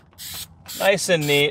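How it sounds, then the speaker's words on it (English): 3M adhesive spray is sprayed onto a car door panel of a 1998 Jeep ZJ 5.9, giving short, close hissing bursts. A voice talks over the spraying. "without getting it on the door handles with my 3M adhesive spray"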